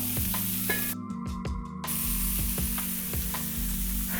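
Steady crackling sizzle of burger patties frying in a hot pan, continuous and close, with a brief burst of louder spitting early on.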